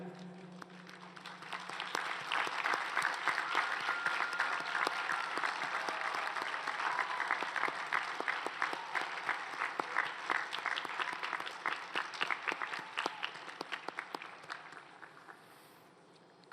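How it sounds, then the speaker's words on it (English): Graduates at a Class of 2021 commencement ceremony applaud families and supporters, a sustained wash of many hands clapping that swells quickly, holds steady and thins out near the end. "join us in applauding the families and other supporters of our students who are here today"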